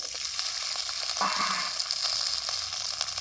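Sajna drumsticks frying in hot mustard oil, giving a steady, close, bright sizzle with a few soft stirring scrapes and no talking.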